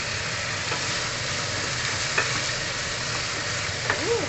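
Pork chop frying in a pan of hot, splattering oil gives a continuous sizzle with a few sharp pops and crackles, fairly close and steady, with no one talking.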